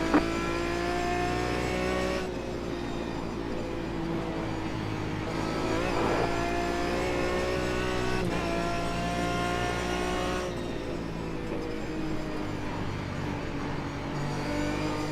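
Aston Martin DBR9 race car in iRacing at Mosport, its engine droning loud and steady throughout with shifting pitch as it accelerates and lifts, other cars audible nearby in the pack.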